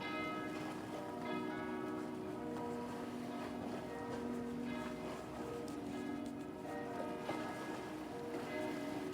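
Church bells ring steadily in the distance in Venice, their tones overlapping, over a low continuous rumble of engines and water.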